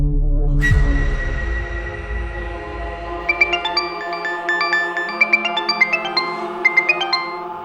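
Mobile phone ringing for an incoming call from an unsaved number, a bright synthetic chime melody of repeated tinkling notes over a steady low hum, loud and close with no talking.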